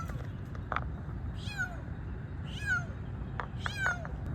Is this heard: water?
no